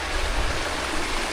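A river flows steadily close by, a dense continuous rush of water with a strong low rumble and no pauses, heard on its own without voices.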